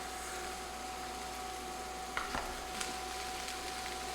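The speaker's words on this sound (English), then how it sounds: "I'm gonna just continue to mix these around." Apples cooked in butter in a pan hiss softly and steadily while being stirred, with a couple of brief scraping clicks from the spoon.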